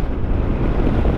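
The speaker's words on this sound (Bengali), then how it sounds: "হেভি ঠান্ডা হাওয়া দিচ্ছে" Strong cold wind roars across the microphone during a motorbike trip to Gurudongmar Lake in the Sikkim mountains, a loud, steady, buffeting rumble with no talking.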